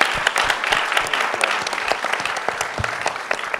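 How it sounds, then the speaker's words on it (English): An audience at a film discussion event applauds, a dense patter of many hands clapping steadily and fairly loudly throughout. "A round of applause."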